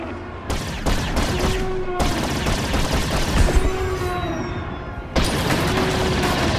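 Rapid bursts of sci-fi blaster fire in Star Wars Battlefront II, dense and loud, with laser zaps and explosions rolling underneath throughout.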